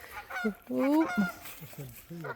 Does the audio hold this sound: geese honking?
yes